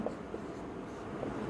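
Pen or marker strokes scratch faintly across paper while an algebra answer is written out during a class 11 math lesson, with soft, irregular scraping and no talking.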